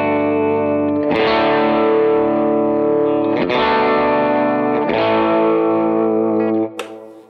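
Lead electric guitar run through effects units, playing a song: a few long, sustained distorted notes swell and ring out one after another, loud and alone, before fading at the end.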